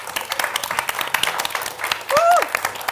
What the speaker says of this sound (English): maybe show by round of applause, by which I mean when I say you clap.